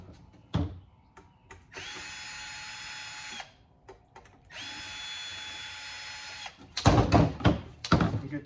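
A power drill backs screws out of a scrapped electronics casing in two sustained whirring bursts. Quiet clicks come between them, and loud clunks and rattles of handled metal follow at the end.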